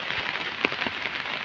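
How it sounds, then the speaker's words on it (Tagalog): Light rain with drizzle patters on a surface in a short burst, a soft continuous hiss with a few distinct drops, heard alone. "maulan na may halong ambon"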